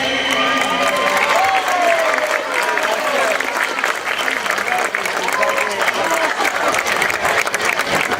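Loud, dense applause from a large audience after a quartet's song, with some cheering mixed in, continuous for the whole stretch.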